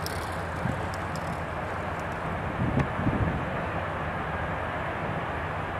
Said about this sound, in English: Oh, there goes the Continental plane finally.